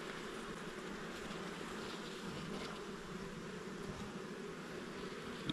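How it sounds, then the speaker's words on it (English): Dense, continuous buzzing of many robber bees fighting at a beehive close by, a steady busy hum with no voices. "Looks like there's some robber bees up here."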